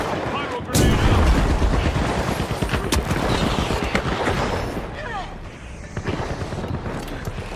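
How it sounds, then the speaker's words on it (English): A burst of fire and blasts erupts as a pyro grenade lands in The Finals, a loud opening hit followed by crackling, rumbling flames and scattered gunfire, with a caster's voice talking over the action. "Pyro grenade out."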